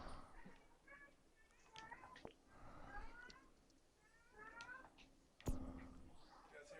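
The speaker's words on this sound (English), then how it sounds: "You guys hear Nora meowing?" A pet cat named Nora meowing repeatedly in a series of faint, drawn-out cries at a distance, followed by a brief sharp knock near the end.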